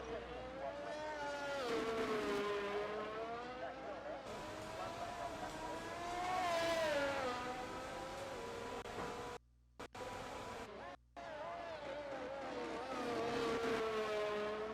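Race car engine in an F1 racing video game at Monaco, a loud whining roar rising and falling through gear changes with brief cutouts, heard continuously beneath a commentator talking.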